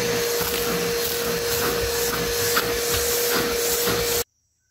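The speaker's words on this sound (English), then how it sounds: "So I'm gonna vacuum this out." A vacuum cleaner runs steadily while vacuuming the cab floor of a K20 Square Body truck, a loud constant hiss with a tonal whine and faint scraping, then cuts off abruptly near the end.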